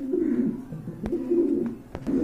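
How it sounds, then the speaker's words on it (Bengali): Pet pigeons kept for sale coo in low, rolling murmurs, close by and fairly steady, broken by a few sharp clicks. "খুবই সুন্দর সুপার কোয়ালিটির এক জোড়া কবুতর আছে"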